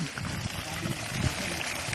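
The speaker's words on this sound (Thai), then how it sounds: "ดูน้ำไหลครับ" Water gushing from a 1.5-inch pipe of a 30-metre drilled well driven by a solar-powered submersible pump, a steady broadband rush and splash that holds evenly throughout, close by.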